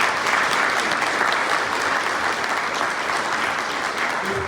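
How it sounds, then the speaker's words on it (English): An audience at a Hawkins County legislative breakfast gives a full round of applause, dense steady clapping close by that continues throughout without pause. "I think that's a round of applause right there."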